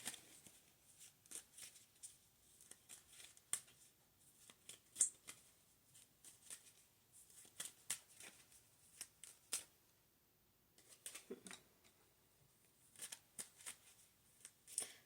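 Tarot cards being shuffled by hand, a run of soft riffling bursts and papery slaps in uneven clusters, close and quiet with short pauses between.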